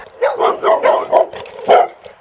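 Overly protective dogs bark in a quick series of about five or six sharp, fairly loud barks, close by and with no talking over them.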